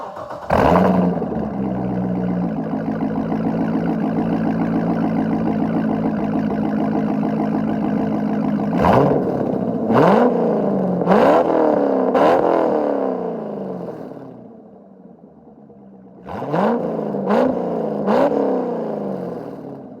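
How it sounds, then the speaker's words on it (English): A C6 Corvette V8 with a Borla Attack catback exhaust cranks and fires up, settles into a loud rumbling idle, then blips the throttle in several sharp revs, drops quiet briefly and revs again. "I'll give you guys a start up."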